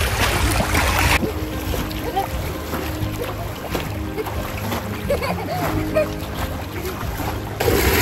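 Steady splashing and sloshing water close by in a swimming pool as a wave is made, a continuous churning wash with wind noise on the microphone.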